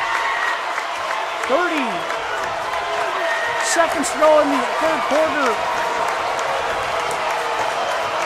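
Spectators in a gym at a boys' high school basketball substate final roar and applaud, a steady crowd swell with a few sneaker squeaks underneath a commentator's play-by-play.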